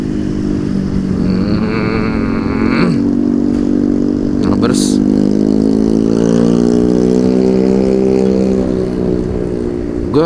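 A Yamaha NMAX 155cc scooter runs at night, its engine a steady mid-pitched drone that rises slightly in pitch as it accelerates, with someone talking over it the whole time.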